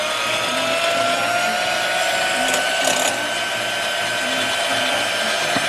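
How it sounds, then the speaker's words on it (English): A hand mixer beats eggs for chocolate mousse, giving a steady whirring drone with a faint rhythmic ticking, continuous and moderately close throughout. "Beat those eggs."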